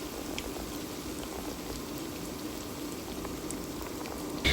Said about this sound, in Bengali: তাই একটা একটা করেই ছেড়ে দিতে হবে এবং একটা একটা করে উল্টিয়ে ভালোভাবে মোচমোচা করে ভেজে নিতে হবে।